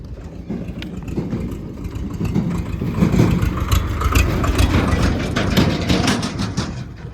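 A tractor engine chugs steadily nearby, a loud, continuous low rumble that swells slightly midway, with no voices.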